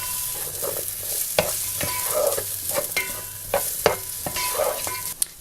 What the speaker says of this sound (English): just give them a good stir in there